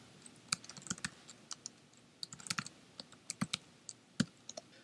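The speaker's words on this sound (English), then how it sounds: "place the cursor where you want it and then start typing" Fingers tap quietly on a computer keyboard in irregular bursts of crisp clicks, with short pauses between runs of keystrokes and no talking.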